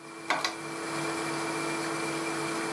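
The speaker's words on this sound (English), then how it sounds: "I'm probably sanding more than I need to here" Pen blank sanded on a spinning wood lathe, a steady whirring motor hum with a brief scrape or two at the start, continuous and close, no speech.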